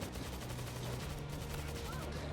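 In World War Z, an auto turret fires a dense continuous burst of rapid shots, loud and unbroken, layered with a low humming game drone.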